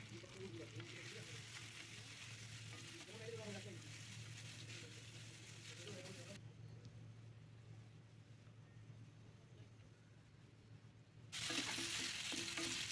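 Potatoes frying in oil with salt and turmeric, a steady sizzle under faint background voices, dropping quieter midway before the frying noise swells louder again at the end.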